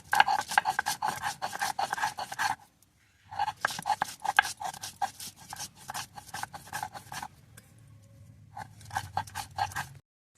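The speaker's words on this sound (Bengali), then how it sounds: "আমি আদা রসুনটা পেস্ট করে নেবো। এর মধ্যে আমি কিছুটা গোলমরিচ দিয়ে দিলাম, কিছুটা গোটা গরম মশলা এর মধ্যে দিয়ে আমি পেস্ট করে নেবো।" Rhythmic rasping strokes of ginger, garlic, black pepper and whole garam masala being ground into a paste, close and brisk, with a short pause before the grinding resumes in bursts.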